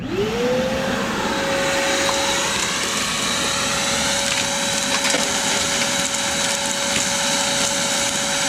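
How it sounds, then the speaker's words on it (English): A shop vac whines up to speed and runs steadily while vacuuming mud off a 1996 Ford F250 Powerstroke diesel, with gritty crackling and rattling debris pulled through the hose throughout. "First, we're going to take the shop vac to it"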